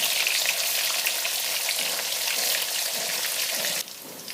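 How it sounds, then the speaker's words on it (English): Cottage cheese cubes fry in hot oil with a dense, steady sizzle that stays loud and close throughout, dropping to a quieter hiss near the end. "Just add to the oil and fry it till it is golden in color."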